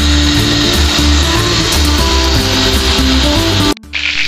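A kitchen blender grinds green tomato salsa with cilantro and some cooking water, a loud, strained whir with shifting pitch as the contents churn, cutting off abruptly near the end.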